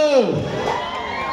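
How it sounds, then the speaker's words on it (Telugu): A crowd at a shopping mall opening in Karimnagar cheers and shouts in a short, loud swell, with a high whoop at the start and a mix of voices. "నచ్చింది ఒక్కసారి వాళ్ళ కోసం గట్టిగా చప్పట్లు కొట్టాలి"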